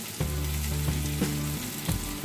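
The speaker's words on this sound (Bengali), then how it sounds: "এখানে আমি বেগুনটা, কুমড়ো আর আলুটা আগে ভেজে নিচ্ছি।" Eggplant, pumpkin and potato pieces frying in oil with a little ginger, a strong steady sizzle with a few stirring knocks, close up and alone.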